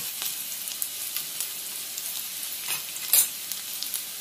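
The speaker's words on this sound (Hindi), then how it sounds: "हम इसमें हींग और हरी मिर्च भी डालेंगे, लहसुन" Asafoetida, green chilli and garlic sizzle in hot oil with mustard and fenugreek seeds for pakoda kadhi, giving a steady close crackle with a few sharper pops and spits.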